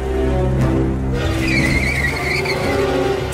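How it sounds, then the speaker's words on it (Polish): A car skids and its tires screech loudly as it strikes a pedestrian, a sound effect in a children's story with an engine roar underneath and no voices. "Samochód potrącił Poliannę."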